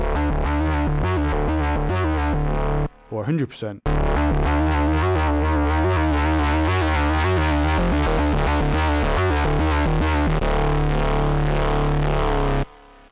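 A Korg Minilogue XD synthesizer plays a sustained, gritty, distorted tone with its drive switched on, punctuated by pulsing notes and a brief sweeping break, with a short spoken remark near the start.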